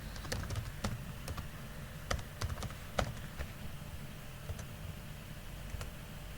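Password typed on a computer keyboard, scattered quick key taps in uneven clusters, close but soft over a steady low hum, no speech.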